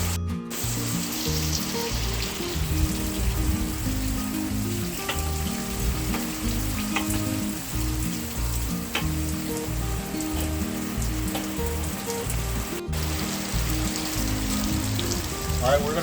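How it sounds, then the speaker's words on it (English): Brussels sprouts sizzling on a flat iron grill outdoors, a dense, steady crackle and hiss continuing evenly throughout with faint background murmur. "we're going to start off by cooking some Brussels sprouts on the grill"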